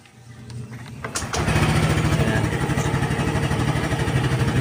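A Yamaha Mio Gear 125cc scooter starts up: a short clicking crank, then the engine catches and settles into a steady, close, pulsing idle.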